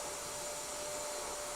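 A vacuum cleaner or similar motor runs steadily and fairly loud throughout, a continuous broadband whir with a faint whine and no talk.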